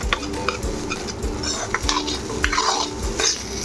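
Egg fried rice is stirred briskly in a pan, with rapid utensil clinks and scrapes against the metal over a light sizzle, all close and busy.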